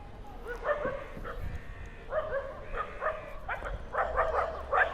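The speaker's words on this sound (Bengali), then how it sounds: "ওয়েলকাম জানানোর জন্য একদল কুকুর ওয়েট করতেছিল" Several dogs bark and yip in bursts at the old Khulna railway station in Bangladesh, fairly close, with irregular overlapping barks against faint background noise.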